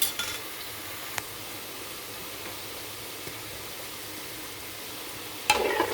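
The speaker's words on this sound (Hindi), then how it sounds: "ये इस तरीके से जब आप चम्मच से हिलाएंगे ना तो इसने खुद से ये सारे खुल जाने हैं" A spoon stirs namak pare frying in hot oil, giving a steady, close sizzle with soft scraping and a brief clink at the end.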